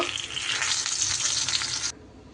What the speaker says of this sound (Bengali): এইভাবেই লাল লাল করে ভেজে নিতে হবে।